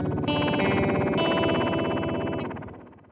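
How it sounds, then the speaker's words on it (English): MoogerFooger Spring Tank plugin effect, a software spring reverb from a bundle of seven effects, gives a dense, metallic, warbling processed tone that holds steady and loud, then fades out over the last second. "Let's see if Spring Tank sounds like a spring tank."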